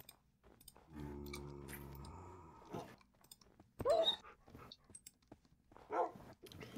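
A pet dog eating food in Minecraft, with short crunchy chewing bursts and a sustained tonal eating sound, separated by quiet gaps, faint and close.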